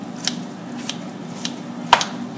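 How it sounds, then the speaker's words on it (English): Kitchen scissors cut through long chow mein noodles in a pan, with four crisp separate snips spaced about half a second apart, the last one the loudest, over a faint kitchen hum. "I like to take my kitchen scissors and just cut through them to make the noodles a little bit"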